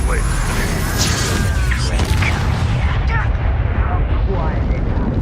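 Hogwarts Legacy game combat: a Confringo blasting spell goes off as a booming, rumbling explosion with crackling debris, part of dense, continuous battle noise and music, with a character speaking briefly.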